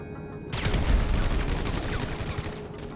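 Advanced rifle fire in GTA Online erupts after a brief quiet moment into a dense, loud stream of rapid automatic shots that continues to the end.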